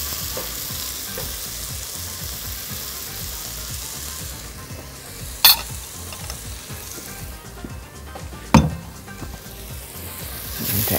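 Onions, carrots and leeks sizzling in a pot over high heat, a continuous close frying hiss with two sharp clinks of a utensil against the pot partway through.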